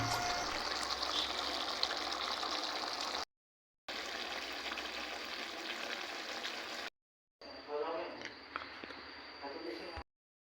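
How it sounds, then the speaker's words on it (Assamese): Chicken curry bubbling in a pot on the stove, a steady close simmering hiss that stops twice in brief silent breaks. "এই ধুনীয়াকৈ উতলি আছে, দেখা পাইছে।"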